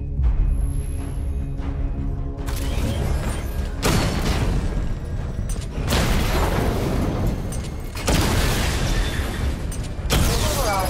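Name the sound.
weapon firing and destroying targets in video game Arkham Knight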